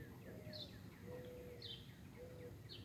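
Distant owl hoots drift in softly as drawn-out low calls, overlapped by higher bird chirps in a quiet nighttime outdoor setting.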